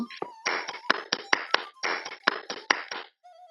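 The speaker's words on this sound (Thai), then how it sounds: "ฉันขอปรบมือให้กับความพยายามของเขา" Hand clapping in rhythmic bursts, several sharp claps grouped with short pauses, close and clear over a soft musical tone in a Thai audio drama scene.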